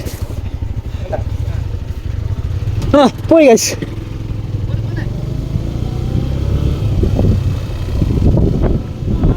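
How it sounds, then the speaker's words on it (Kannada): A motorcycle engine drones steadily beneath wind noise through a bike ride near Kumara Parvatha in Madikeri, with a person speaking briefly over the engine partway through. "ಈಗ ಬೈಕ್ ಜರ್ನಿ ಗಾಯ್ಸ್"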